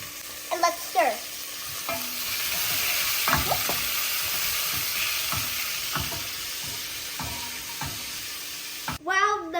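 Onions and vegetables sizzle in a frying pan for katsu curry while a utensil stirs and scrapes through them in repeated strokes, the frying hiss steady beneath the close clacks.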